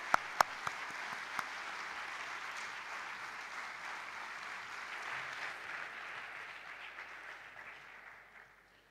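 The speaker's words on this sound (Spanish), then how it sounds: "les damos la bienvenida con un fuerte aplauso" An audience at a public talk on critical thinking and public education applauds steadily to welcome the speakers, beginning with a few sharp claps, holding a dense, moderately distant clatter, then fading out.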